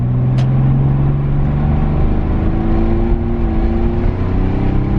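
Naturally aspirated flat-six of a Porsche 911 pulls hard onto a major road, a loud steady engine drone with rising harmonics climbing in pitch as it accelerates, continuous and close with no talking.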